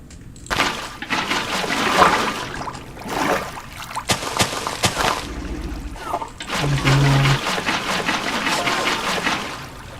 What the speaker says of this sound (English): So I guess I'll put in some water.